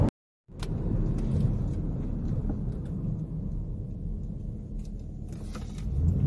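A Ford F-150 with a Coyote engine on stock tune and pump gas in sport mode, accelerating hard after a brief silence, a loud, steady low engine roar that holds throughout and swells slightly at the end.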